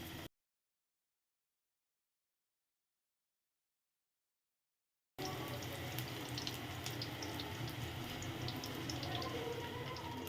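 Dahi bhalla batter spoons into hot frying oil, raising a continuous bubbling sizzle that cuts in abruptly after a long silence and stays loud and close to the end.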